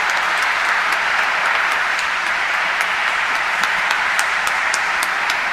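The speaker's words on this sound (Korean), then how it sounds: "큰 박수로 은경축을 맞이하신 신부님들을 축하해 주시기 바랍니다." Loud, sustained applause from a congregation honoring priests at a 25th ordination anniversary celebration, a dense even wash of many hands clapping steadily throughout with no voices.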